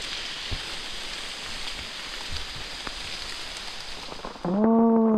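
Steady rain falls for several seconds as a dense, even hiss. Near the end it gives way to a louder, sustained tonal voice-like sound.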